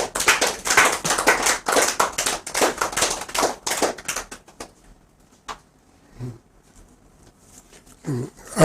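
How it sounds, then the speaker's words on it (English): Audience clapping for a guest on a Pan African news program, dense and loud for about four seconds before thinning to a few scattered claps, followed by quiet with faint stray sounds. "Let's clap for her"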